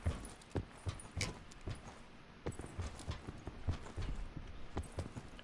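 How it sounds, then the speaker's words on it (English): Footsteps from a player moving below in a solo battle-royale video game, around a farm house: a series of soft, irregular thuds and scuffs spaced through the stretch, fairly faint, with no talking. "Then I heard footsteps below me."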